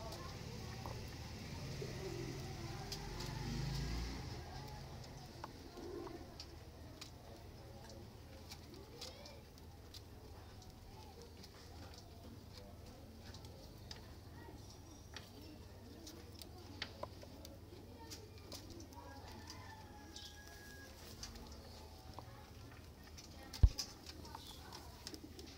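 Daku breeder pigeons coo softly against a steady low hum in a loft, the faint rolling calls repeating throughout, with a few sharp knocks near the end.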